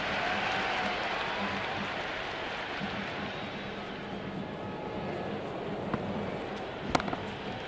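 Crowd in a cricket video game with a steady wash of clapping and murmur at moderate level, carrying on evenly with no break, plus a couple of brief sharp knocks near the end.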